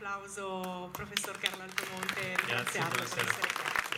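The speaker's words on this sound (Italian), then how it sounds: "Quindi vorrei accogliere con un applauso" Audience applause at an economics conference held in a parish hall, a steady spread of clapping over the whole stretch, with someone speaking briefly over it at the start.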